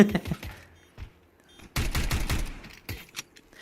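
Rapid video-game gunfire empties a magazine in a few loud, dense bursts separated by short pauses, with a final scattering of shots.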